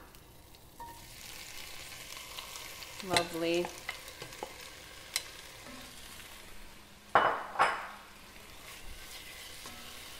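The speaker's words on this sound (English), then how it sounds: "once it starts to sizzle, then I'll go ahead and add all of my veggies" Vegetables sizzle and crackle in hot oil in a pan while a utensil stirs, with a couple of louder bursts as ingredients hit the oil; a voice speaks briefly.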